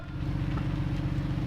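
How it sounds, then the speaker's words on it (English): A lifted Jeep Cherokee XJ engine drones low and steady with its tires spinning, a rough, pulsing rumble heard briefly and at moderate distance. "All the tires are spinning, so I mean that's an upside."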